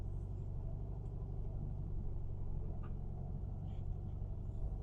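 A 1966 VW Beetle drives along with a steady low engine rumble and road noise, close and constant, with faint clicks over the top.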